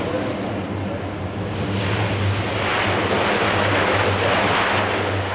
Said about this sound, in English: the complete renovation of this 1950s design will see the Hercules flying well into the next millennium